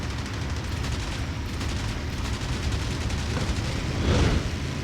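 A Spitfire fires its Browning .50 caliber machine guns and Hispano Mark II 20mm cannons in the flight game IL-2 Sturmovik: rapid, rhythmic bursts of gunfire over steady engine drone, ending in a louder blast.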